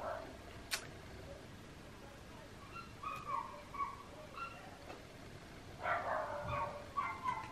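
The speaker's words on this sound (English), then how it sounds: "the dog downstairs is getting a bit mental" A dog barks a few times from downstairs, muffled and fairly faint, in short irregular bursts over a quiet room tone.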